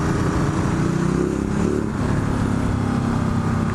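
A Ducati Multistrada 1260S motorcycle engine rumbles loudly and continuously up close, its deep throaty drone holding nearly steady with slight swells.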